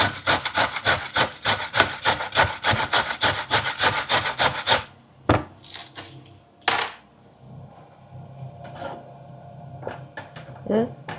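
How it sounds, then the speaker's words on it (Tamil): Scraping during cooking repeats in a fast, even rhythm of harsh rasping strokes for about five seconds, close and loud, followed by scattered clunks and scrapes with a voice speaking. "இப்போ நான் ஸ்க்ரேப் பண்ண போகிறேன்"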